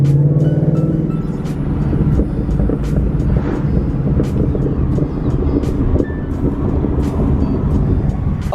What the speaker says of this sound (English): it's backfiring with stock H pipe resonators and just Roush axle back